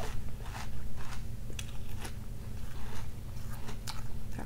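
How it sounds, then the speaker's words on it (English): Crunchy bites of Fruity Pebbles cereal, a close, steady series of crisp crunches and chewing with no talk. "That crunchy sweet bite every time, I'm telling you."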